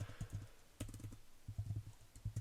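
Keystrokes on a computer keyboard while entering a course lesson title, coming in short uneven bursts of clicks with brief pauses between them, close and fairly quiet.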